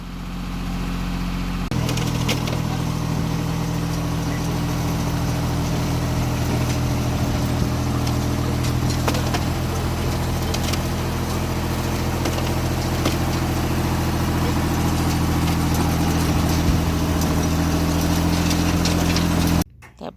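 A tractor engine idles steadily in a front yard, a loud, constant low rumble with a throbbing hum that holds for nearly twenty seconds before cutting off abruptly at the end.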